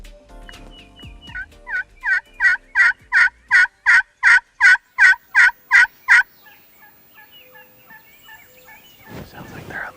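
Wild turkeys in a field let loose a long, rhythmic run of about a dozen evenly spaced gobbling calls, loud and fairly close, before trailing into softer clucks and rustling.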